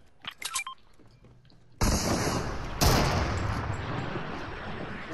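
Gunfire in a video game: a sudden loud burst of rapid shots that continues as dense, sustained firing, with a second harsh blast a second later, after a few faint clicks.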